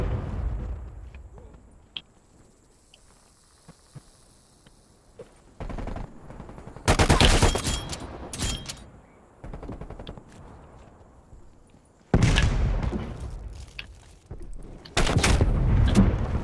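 Bursts of video game gunfire, long dense volleys around the midpoint and again near the end, separated by quieter stretches with scattered single shots and low rumble.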